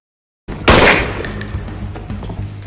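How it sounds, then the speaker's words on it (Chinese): A gunshot fired at close range at a person in a shop setting from the Peacemaker series, one loud sharp blast followed by a decaying rumble and faint ringing tones, with no talking. "You don't have to shoot people after you already killed them."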